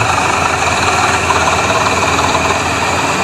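A Massey Ferguson tractor hauling an 18-foot trolley of straw runs its engine, a loud, steady, low diesel chug with a rapid knocking pulse and vibration, heard up close without talk.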